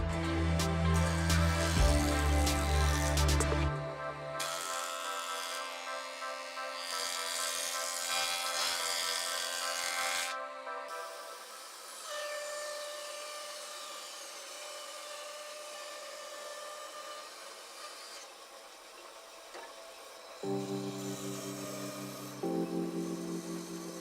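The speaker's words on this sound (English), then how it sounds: "we're going to joint them on one of the rough faces, get that square with the other two faces" A jointer planes the faces of glued-up wooden desk legs, its loud motor whine and cutting roar rising as each pass begins, then easing off into a steadier hum before another burst near the end.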